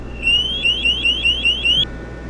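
Low CO alarm on a G450 portable gas detector: a series of about seven rapid rising electronic chirps in a steady repeating pattern, loud and close, with no talk.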